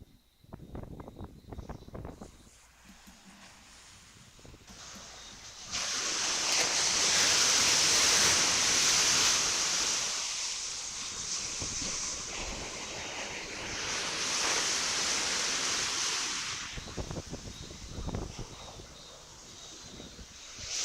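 Hurricane-force wind and crashing surf at a shoreline, a roaring noisy rush that swells loudly in two long surges between quieter gusty stretches.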